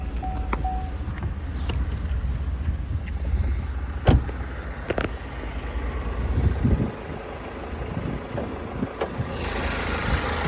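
A 2018 Opel Astra K with a 1.6 diesel engine idles under the open hood, a steady low, even hum with a few light clicks and taps nearby.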